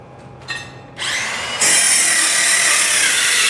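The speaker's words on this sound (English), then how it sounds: "we're going to use a saw to cut this board so it's a little easier for us to get out" A power saw spins up in stages and bites into a wooden 2x4 garage door jamb board, giving a loud, close, continuous high whine of the blade cutting wood, with no talking.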